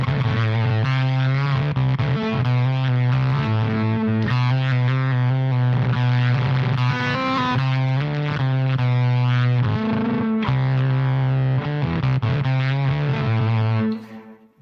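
A distorted, buzzy guitar tone from a Ritual Devices Grimalkin fuzz pedal with a video-game synth-like quality plays continuous notes and chords, loud and sustained throughout, with no voices.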